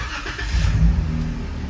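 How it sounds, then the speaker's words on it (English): A 3.6-litre Jeep Wrangler JK engine cranks and catches, a short close low rumble that swells briefly as it fires and settles. "Then you'll start the vehicle."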